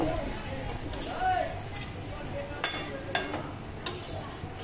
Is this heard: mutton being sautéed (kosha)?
yes